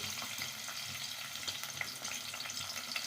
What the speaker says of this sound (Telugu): హీట్ అవుతున్న ఆయిల్లో కొన్ని ఆనియన్స్ ముక్కలు వేసుకోవాలి